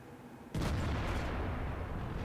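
A World of Tanks shell striking and bouncing off a KV-4's armor: one sudden loud boom followed by a long roaring, rumbling decay, close and alone.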